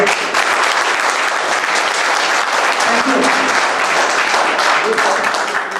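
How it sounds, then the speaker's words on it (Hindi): Sustained applause from a large audience, loud and dense throughout, with steady clapping filling the whole stretch. "तो एक बार फिर से हम चाहेंगे सर के लिए जोरदार ताली।"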